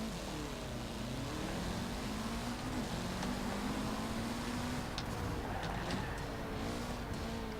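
Mitsubishi car engine in the racing game Forza Horizon 4, a steady droning tone rising and falling with speed, with faint turbo flutter and whooshes layered over a constant engine hum.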